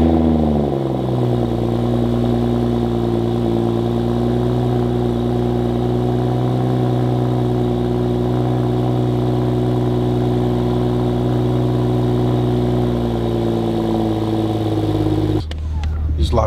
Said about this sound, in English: So let's get a cold start on this.